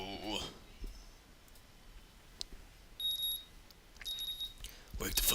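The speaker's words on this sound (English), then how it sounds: "The sound of the alarm pulls me out of a faithful slumber" An electronic alarm clock in the visual novel Katawa Shoujo sounds two short bursts of thin, high beeping among scattered soft clicks, fairly faint against a quiet background.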